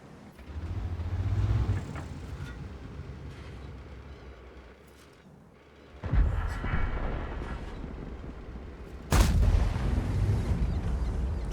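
Tank cannon shots in World of Tanks boom heavily, with sharp, loud blasts and low rumbling tails, separated by quieter stretches of engine and track noise.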